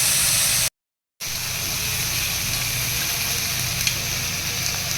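Dry red chillies and mustard seeds sizzle steadily in hot oil in a silver bowl, a continuous loud hiss broken by a brief gap of silence near the start.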